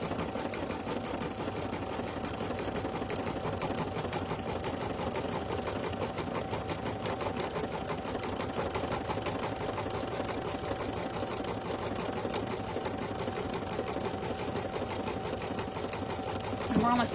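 An embroidery machine satin stitches an appliqué heart design in a continuous, even, rapid needle chatter over a low motor hum, steady and close throughout, with a voice speaking over it.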